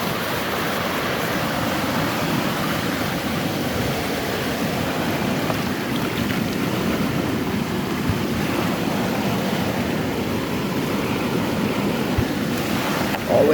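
Rough water churns and rushes steadily throughout, a dense, continuous roar of waves and current close by with wind noise on the microphone and no clear breaks.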